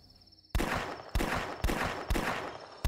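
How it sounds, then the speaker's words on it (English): Gunshots in The Last Stand zombie flash game: after a quiet start, four loud, sharp reports ring out about half a second apart, each with a brief decaying tail. "I like to fire a couple rounds in the dark"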